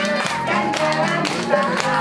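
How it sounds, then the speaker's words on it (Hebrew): Children clap their hands in rhythmic taps at a kindergarten family day party, a steady beat of sharp claps under a sung children's tune with voices singing along. "עוד כפיים"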